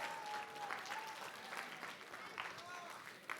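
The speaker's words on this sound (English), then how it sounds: "Round of applause for you guys" Student audience at a high school Writers Week assembly applauding, a steady wash of many hands clapping at moderate distance, with faint voices mixed in.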